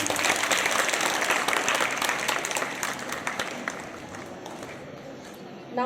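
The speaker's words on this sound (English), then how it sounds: "Come on, clap, children. Encourage them." Children at a school prize ceremony clap steadily as a crowd, a dense continuous applause that slowly thins toward the end, with voices mixed faintly into it.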